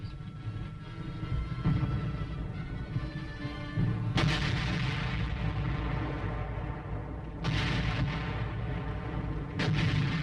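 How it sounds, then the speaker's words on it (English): Korean War howitzer artillery fire on an archival newsreel soundtrack, with heavy booms landing several times over a constant low rumble of bombardment, loud and dense with no clear gaps. "The howitzer shells smash lethal punches into the face of the enemy."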